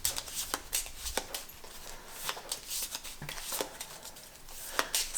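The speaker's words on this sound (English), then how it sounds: "So we pop the event card back in the deck and shuffle" A deck of cards for the board game Survive Alive is riffled and shuffled by hand, a series of crisp, papery flicks and snaps in quick irregular bursts, close and clear with no talk.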